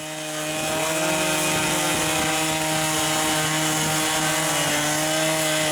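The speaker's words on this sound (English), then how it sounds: "we had to cut a hole to pull it out of" Cutting a hole through thick lake ice to free a sunken snowmobile in Maine's Allagash Wilderness Waterway; a loud, steady motor drone runs close and unbroken throughout, no voices.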